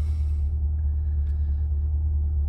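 C8 Corvette engine idling as it is put in drive, a steady deep low rumble, close and constant, with no speech.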